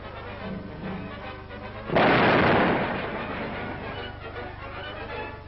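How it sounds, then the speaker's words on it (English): A captured German 88 mm gun fires in wartime 1945, one heavy booming blast that rolls and decays over a constant low rumble, heard from a moderate distance on old archival sound. "This team fires a Nazi 88 millimeter monster."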